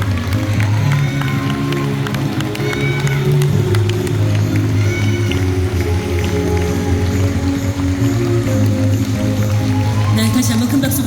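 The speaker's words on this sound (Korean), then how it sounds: "네, 다시 한번 큰 박수 부탁드립니다." Thousands of party members at the Rebuilding Korea Party's founding convention at KINTEX keep up a steady roar of applause and cheering, with an amplified voice speaking over the crowd throughout.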